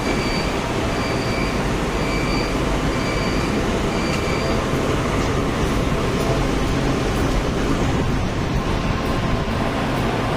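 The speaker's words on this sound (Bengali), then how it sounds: "মালয়েশিয়াতে সবচেয়ে পুরনো ট্রেন হচ্ছে মনোরেল" A Malaysian monorail train running past, a loud continuous rumble and rolling roar held close for the whole stretch, with faint high whines over it.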